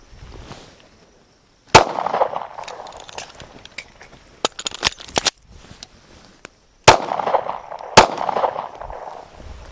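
Sharp gunshots crack out during firearms training, four or five loud isolated reports spaced a second or two apart, with clattering handling and metallic reload clicks between them and brief silent gaps.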